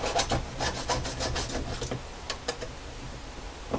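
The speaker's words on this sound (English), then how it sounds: "You have a file handy. You just knock that off." A hand file rasps against metal to knock off the drill burr on a Duke #3 trap hole, a series of quick, close scraping strokes that slow and fade toward the end.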